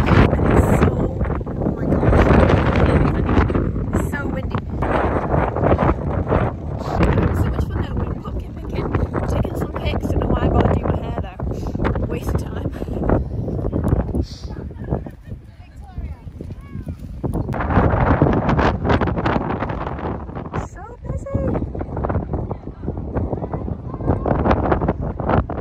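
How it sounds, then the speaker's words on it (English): Strong outdoor gusts buffet the microphone in loud, roaring bursts that rise and fall, nearly drowning out a person speaking beneath the wind noise. "it's so windy today."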